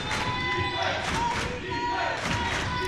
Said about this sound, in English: Now Pembroke's crowd starting to get into it.